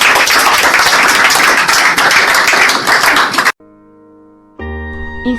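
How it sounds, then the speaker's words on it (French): A church congregation claps in a dense, lively burst for about three and a half seconds before it cuts off sharply, followed by quiet tones and then music. "Applaudissez à Dieu."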